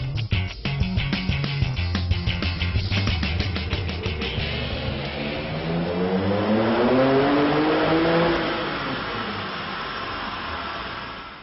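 A Ruf Porsche revs on a dynamometer, the engine climbing through a sustained, loud, rising and falling sweep of pitch, close and continuous with no talk.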